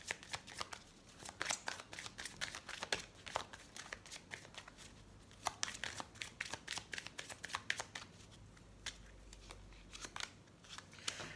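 Tarot cards are shuffled and drawn in a rapid run of crisp riffling flicks and papery slaps, close and fairly quiet, with no talking.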